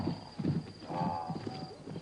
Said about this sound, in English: Horses are beautifully adapted runners